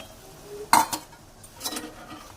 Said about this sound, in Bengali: দেখুন আমি একটু জল দিয়ে দিচ্ছি হালকা করে।